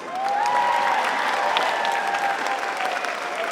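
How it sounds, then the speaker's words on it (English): Audience applause fills a middle school band concert hall, a steady, dense wash of clapping from a large crowd that holds evenly loud throughout. "one more round of applause"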